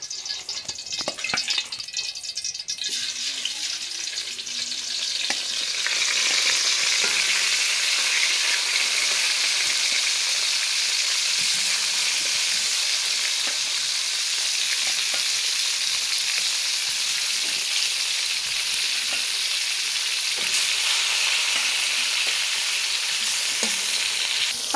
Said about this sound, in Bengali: আমি এখন তেলাপিয়া মাছগুলো ভাজে নিব।